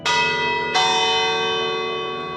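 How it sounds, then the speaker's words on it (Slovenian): A church bell in the tower of the old branch church of St. Matthew in Hrastje strikes twice for the half hour, two loud, close, ringing blows about 0.7 seconds apart, each leaving a long humming decay. "Iz mogočnega zvonika kmalu zaslišimo dva udarca,"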